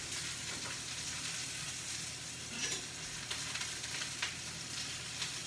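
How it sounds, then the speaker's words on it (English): A jambon-wrapped stuffed chicken breast sears in a pan over medium to medium-high heat, giving a steady, dense sizzle with faint pops and no talking. "Now, while that's searing"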